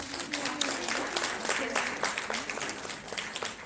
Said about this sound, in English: ma'am is coming up on stage and taking a big round of applause for Miss Ekta Gupta